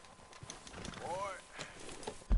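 Horse hooves clip-clopping in the Red Dead Redemption 2 video game, a few soft irregular hoof beats under a faint whinny-like tone and a voice talking.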